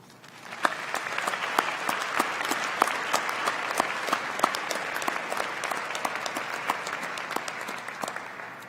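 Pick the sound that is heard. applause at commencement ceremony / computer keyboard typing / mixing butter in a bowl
applause at commencement ceremony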